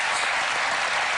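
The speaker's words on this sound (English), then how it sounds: "Should be a round of applause, but let us go." Brief burst of dense audience applause in a TV magic show studio, loud and steady for about a second.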